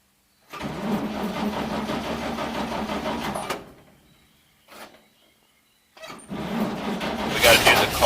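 A 1942 Chevy 1.5 ton barn-find truck, heard from inside the cab, cranks and runs roughly for a few seconds, dies away, then catches again and revs louder.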